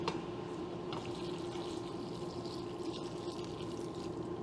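Homemade vegetable stock pours from a jar into a cooking pot with bay leaves and seasoning, a steady close liquid splash and trickle running the whole time without a break.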